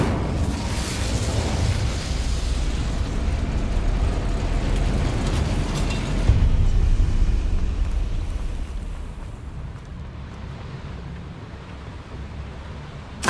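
A fire spell cast during combat in Hogwarts Legacy erupts in a loud, sustained roaring burst with explosive booms, swelling for several seconds before easing into a lower rumble that fades out near the end.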